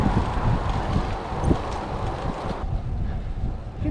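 Steady, loud wind rushes and buffets the microphone throughout a road bike ride near Trieste, with no voices.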